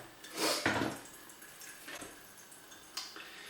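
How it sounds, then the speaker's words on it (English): Water briefly rinsing a paper filter in a Chemex coffee brewer: a soft, faint splash and trickle near the start, then a few light drips and quiet handling noises, with no talking. "quickly give it a wash"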